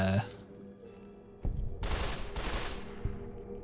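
A burst-fire gun from a weapons mod for Fallout: New Vegas, shooting in short dense volleys that crackle loudly in the mid part, with quieter game ambience before and after and no talk.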